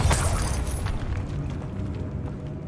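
A Bombarda blasting spell detonates in Hogwarts Legacy, a loud booming explosion at the start that decays into a rumbling, crackling tail with scattered debris pops.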